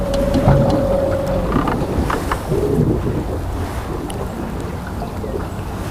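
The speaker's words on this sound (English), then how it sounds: "It's a little breezy here too." Steady breezy wind blows outdoors near the water, gusting against the microphone in a continuous rushing roar with a faint passing tone early on; no one talks.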